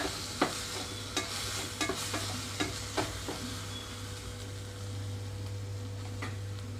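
Brinjal fries in a pan with a steady low sizzle, broken by irregular clacks and scrapes of stirring, close up and with no talk.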